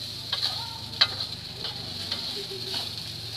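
Nasi goreng stirred and fried with a rice spoon, soft sizzling running under a few sharp scrapes and taps of the spoon against the pan, close and fairly quiet, with no voices.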